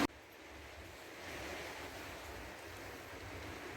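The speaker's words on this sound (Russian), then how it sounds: "Дождь все никак не перестает, такой сильный." Heavy rain pours onto a dacha gazebo, a steady broadband hiss with dense pattering that swells slightly midway and holds constant throughout, with no voices.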